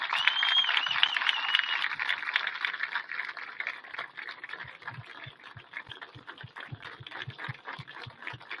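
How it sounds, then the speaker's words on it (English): A crowd at a state championship celebration applauds its coaches, a dense wash of clapping that gradually thins, with a steady thumping beat emerging underneath toward the end. "let's have one more round of applause for our coaches and all that they've done"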